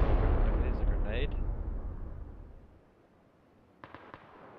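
A grenade goes off in the PUBG shooter game with a loud, deep boom that rumbles and fades over a couple of seconds, followed by a few faint, sharp pops.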